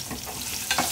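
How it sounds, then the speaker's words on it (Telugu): Onions dropping into a hot frying pan for sambar, a close, even sizzle with a couple of sharp scraping stirs near the end, no speech. "ఇదో ఉల్లిపాయలు వేస్తున్నాను."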